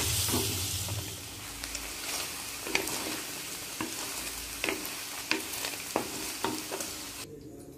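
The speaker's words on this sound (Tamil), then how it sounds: "அந்த பன்னீர் போட்டு நல்லா லைட்டாக நம்ம கோல்டன் ப்ரௌன் கலரில் ஃப்ரை பண்ணிடலாம்" Paneer cubes fry in melted butter in a pan, giving a steady broadband sizzle with scattered clicks and scrapes from stirring, sharp taps near the end; no voices.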